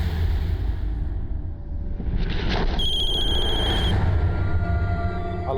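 A telephone rings with repeated electronic trills over a steady background hum, in a tense police drama scene.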